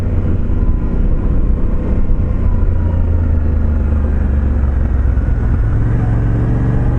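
A Yamaha Tenere 700 motorcycle cruises on an open road, its engine drone steady and loud under heavy wind rush, with no speech.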